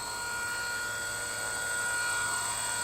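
WLtoys V950 entry-level 3D RC helicopter in flight at around 60% throttle, giving a steady, loud high-pitched rotor and motor whine with a constant tonal drone throughout and no talking.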